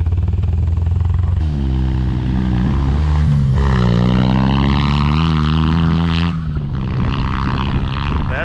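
A Joyner Sand Spider 650 buggy revs hard and accelerates through the gears. The loud, close engine rises in pitch several times with short dips at each shift, and there is no talking.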